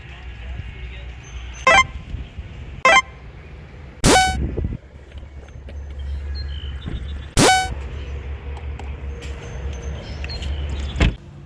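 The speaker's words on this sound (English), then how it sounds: "for some reason my car honked, even though my keys are inside of it" Several short, loud car horn honks ring out at irregular moments over low background noise and faint voices, each one sharp and brief; the car is honking on its own while locked with its keys inside.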